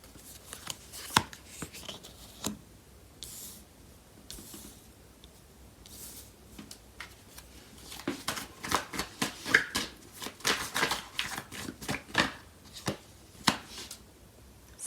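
Tarot cards being shuffled up close during a love reading, a run of soft riffling and flicking bursts that grow busier and louder toward the end, with no talk over them.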